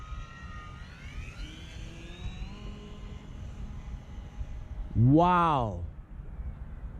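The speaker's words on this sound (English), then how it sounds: "I love doing these nice little low passes with this plane" A P-51D Mustang RC model plane sweeps through a low pass, its engine whine rising and falling in pitch as it approaches and races by close overhead, loud for about a second, over a steady outdoor background, with a brief exclamation from a voice.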